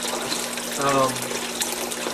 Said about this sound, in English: You can see the water flow coming out of it.